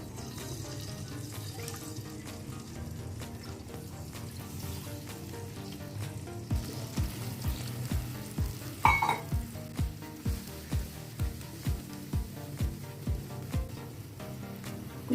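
Milk going into hot ghee in which cashews were fried, while making rava kesari: a steady sizzle and bubbling under rhythmic scraping and clinking of a utensil against the pan.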